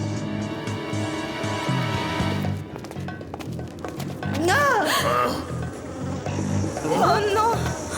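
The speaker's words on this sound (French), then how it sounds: "Oh non! Encore ce bourdonnement!" Giant cartoon insects buzz as warbling, wavering tones that swell in twice over a busy background of music and movement, loud and close, with voices speaking in between.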